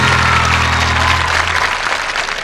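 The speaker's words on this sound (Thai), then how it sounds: "มาปรบมือหน่อยค่ะ" Studio audience clapping on a Thai game show, a dense burst of applause at steady loudness throughout, with no talking over it.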